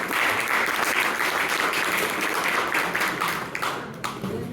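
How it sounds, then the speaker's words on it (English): Applause from a crowd at a community gathering, a steady dense patter of many hands clapping at close range that thins slightly toward the end. "can you have a huge applause for Vensy?"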